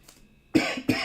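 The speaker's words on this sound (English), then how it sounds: "Stubborn cough, man." Two harsh, stubborn coughs burst out close to the mic one after the other, loud against an otherwise quiet room during a Pokémon card box break.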